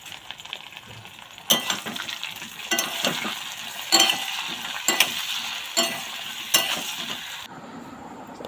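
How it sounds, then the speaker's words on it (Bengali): Potatoes cut into long strips frying in hot fish-frying oil with salt and turmeric give a steady close sizzle, with a few sharp clinks and scrapes from stirring every second or so. "মাছ ভাজার তেলে লম্বা লম্বা আলুগুলো কেটে ফ্রাই করে নিতে হবে"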